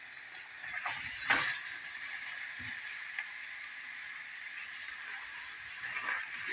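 Onions caramelize in a pan with a steady, bright sizzle and hiss, joined by occasional soft stirring scrapes, close and even throughout with no talking.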